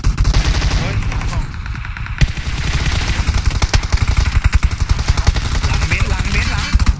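Loud, rapid bursts of automatic gunfire in the PUBG Mobile battle royale game pound almost continuously, with clattering impacts and a brief lull early on.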